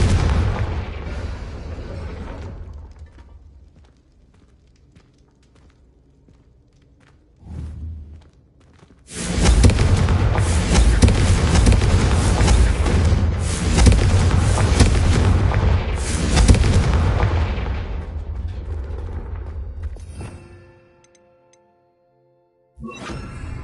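Confringo fire spells cast in the Hogwarts Legacy video game burst in loud, booming explosions, with a short blast early on and then a sustained roaring barrage of fiery detonations lasting about ten seconds before fading out.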